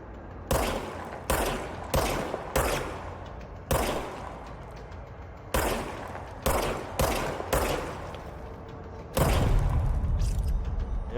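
Service Weapon pistol firing in the game Control, a run of loud, sharp shots in quick clusters with short gaps, ending in a heavier sustained blast.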